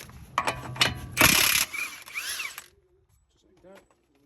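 Close ratcheting clicks from a 36 millimeter socket on a ratchet loosening the axle nut of a 2008 Honda Accord, a few sharp bursts and a loud metallic crack, then a short whirring spin before quiet.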